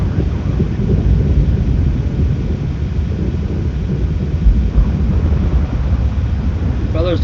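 Thunder from a lightning storm in the video game Twisted, heard as a loud, continuous low rumble that rolls on without a break and covers the whole stretch.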